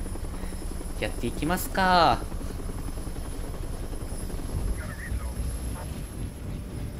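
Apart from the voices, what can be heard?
helicopter in video game Resident Evil 3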